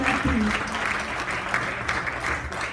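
A church congregation claps steadily in worship, a dense continuous wash of applause with voices faintly mixed underneath.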